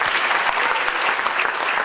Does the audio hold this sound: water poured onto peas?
no